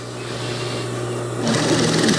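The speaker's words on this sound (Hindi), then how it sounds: "मैं इसको सिलाई लगा रहा हूँ।" An electric sewing machine stitches a Saudi-style thobe sleeve with a steady, fast mechanical whirr. It grows slightly louder and busier partway through and is heard close up with no talking.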